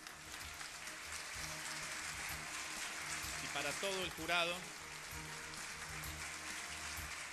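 Audience applause at the Premios Konex 2012 visual arts awards ceremony, a soft, continuous patter of clapping held under a voice speaking over a microphone midway through.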